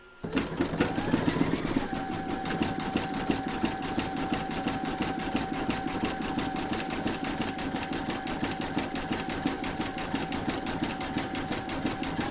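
An embroidery machine zigzag-stitches the snowball area of an in-the-hoop stacked snowman's face, running at a steady rapid rhythm throughout, close and continuous, after a brief rising start.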